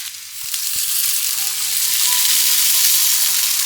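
Water poured into a hot pan while making upma hisses and sizzles loudly and continuously, a broad steaming rush that builds and holds, with faint low tones beneath.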